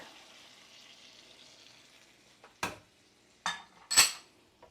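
Coconut milk poured into spicy shrimp sauce in a pan over a quiet background hiss, followed by three sharp utensil clanks against the pan near the end.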